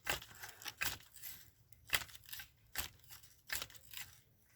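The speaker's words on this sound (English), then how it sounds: "So I'm just going to cut this one on down." Several separate snipping cuts through a collard plant stalk in a garden, sharp close crunches spaced unevenly about half a second to a second apart.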